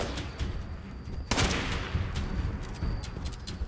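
Gunfire in Fallout 76, a sharp broadband burst of shots near the middle followed by a noisy stretch of combat sound, loud and close with no talking.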